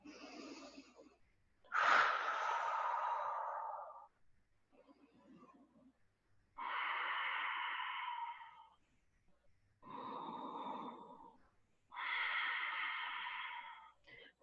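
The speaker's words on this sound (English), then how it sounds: "We're going to take some deep breaths here." Deep, slow breathing is held through a yoga pose: several long, airy inhales and exhales in steady alternation, close and fairly quiet, with no talking.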